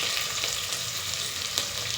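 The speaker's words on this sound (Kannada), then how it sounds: "ಇನ್ನು ಈಗ ಒಗ್ಗರಣೆಗೆ" Tempering spices hitting hot oil in a pan for a moong dal pulao, producing a bright, dense, close-up sizzle that crackles steadily through the short moment with no talk.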